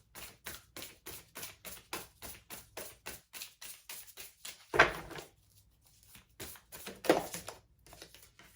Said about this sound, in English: let's pull some shaman cards here